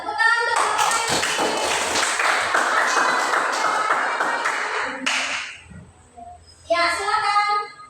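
A group applauds a speaker in a classroom, with dense clapping that is close and loud for about five seconds before fading, then voices briefly chatter.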